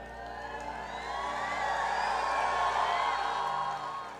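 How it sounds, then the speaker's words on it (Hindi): A large audience at a motivational lecture shouts and cheers in a sustained, dense roar that swells through the middle and eases slightly toward the end. "अब तुम लोग यहां चिल्ला रहे हो, कानपुर तक आवाज जा रही होगी।"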